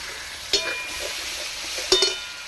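Crushed tomato frying lightly in a pan for homemade pizza sauce gives a steady, soft sizzling hiss, broken by two brief sharp clinks of a utensil against the pan.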